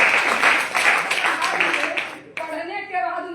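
An audience gives a brief round of clapping at a talk, a dense patter of hands for about two seconds that cuts off abruptly before a voice starts speaking.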